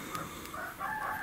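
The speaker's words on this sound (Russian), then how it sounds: "петухи начинают петь, сразу орать" Roosters crow faintly in the distance outdoors at a rural yard, a couple of drawn-out calls over a steady noisy background, with no talking.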